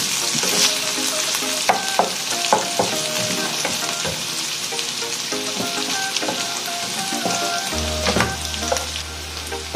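Chicken pieces for salpicao fry hard in a hot pan, browning toward burnt, with a dense, continuous sizzle and crackle broken by sharper pops and spatters, close up and without voices.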